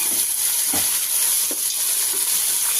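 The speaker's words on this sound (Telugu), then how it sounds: "ఇవి కూడా మనకి మంచి కలర్ వచ్చే వరకు మనం ఫ్రై చేసుకున్నాం" Thinly sliced raw onions fry in hot oil for a green chicken biryani, giving a steady, close sizzle and hiss with a few soft stirring knocks and no talking.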